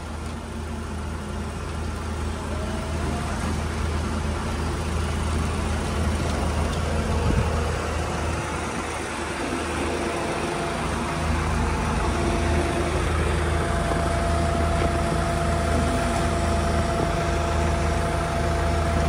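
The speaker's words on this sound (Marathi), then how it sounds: "इथं गाड्यांचा असा भरपूर आवाज चालू आहे" Steady, heavy vehicle engines idle and rumble around Pandharpur railway station, a dense low drone that holds at a constant loud level throughout with no clear voices.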